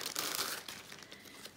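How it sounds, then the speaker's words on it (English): A plastic bag holding a diamond painting kit is crinkled and opened, with bursts of crisp rustling that are loudest at the start and then settle into softer scattered crackles, close up and free of speech. "So it comes in a nice plastic"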